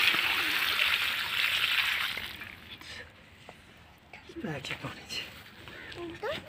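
Water is poured onto a newly planted sapling outdoors, a steady gushing splash for the first two seconds that then fades, followed by people talking nearby.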